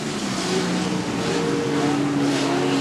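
Off-road race trucks in a CORR championship race at Chula Vista in 2008 roar past the finish line, a loud, steady wall of engine noise with rising revving tones.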